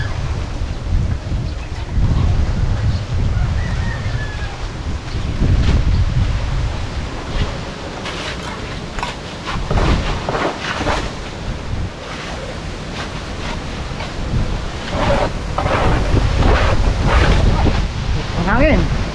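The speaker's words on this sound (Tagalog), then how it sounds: "Hangin." Strong wind by the sea under darkening rain clouds, a steady broadband roar with heavy low-end microphone buffeting and surging waves, loud and continuous, with occasional faint voices in the background.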